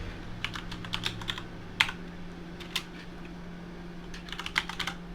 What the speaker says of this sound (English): Let's just type in Blanc.